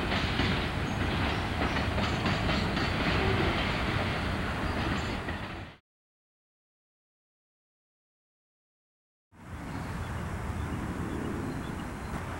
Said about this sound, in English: Southern Train 158, Alexandria Yard